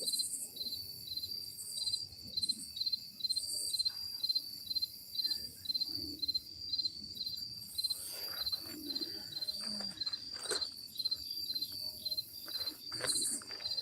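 Crickets chirp at night beside a creek, a steady high-pitched pulsing chorus that goes on throughout, moderately loud and with no voices over it.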